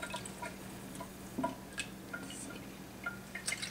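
Water being poured off alfalfa sprouts in a bowl, heard as sparse light drips and splashes with a few small clinks, faint and close, with no talking.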